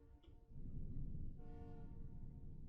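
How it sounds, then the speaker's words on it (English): Train departing in the Automation Empire video game, a faint low rumble with two short horn-like tonal bursts, quiet and distant. "First train is on the way."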